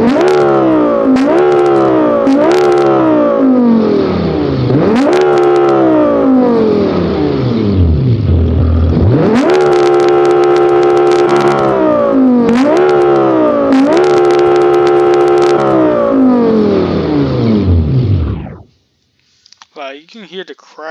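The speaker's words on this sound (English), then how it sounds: "It sounds like my audio is crackling, but it's not my audio, it's actually the car itself." A rear-engined WRC rally car in the BeamNG driving game is revved hard again and again, each loud rising roar breaking into crackles, before the engine cuts out abruptly near the end.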